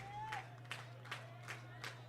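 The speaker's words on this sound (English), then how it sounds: "Crowd clapping their hands." Baseball crowd at a Hamilton Joes versus Southern Ohio Copperheads game clapping in a slow, regular rhythm, five distant claps under a steady low hum and faint voices.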